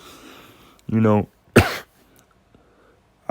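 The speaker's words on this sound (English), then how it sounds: "Been having a little cough past couple of days" A single sharp cough bursts out between short bits of nearby talk, followed by a brief pause.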